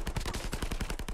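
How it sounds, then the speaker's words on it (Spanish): Rapid gunfire in a shooter video game rattles out as a fast, evenly spaced burst of sharp shots, loud and close for about a second with no voices. "Un par de disparos más y me explota"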